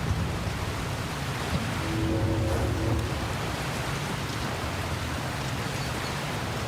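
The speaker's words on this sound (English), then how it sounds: "That is a hell of a waterfall." A big waterfall in the snowy mountains of Oblivion Remastered roars as a dense, constant rush of falling water, loud and steady throughout with no breaks.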